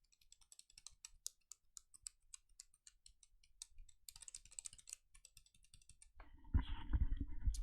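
A mechanical keyboard with stock Brown switches is typed on in a quiet room, giving a steady run of crisp, tinny key clicks. Near the end a louder, low handling noise cuts in.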